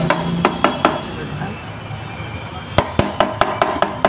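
A light plastic hammer taps a part into place on an M80 engine during assembly, with a quick cluster of sharp taps at first, a pause, then a faster run of about seven close, crisp knocks.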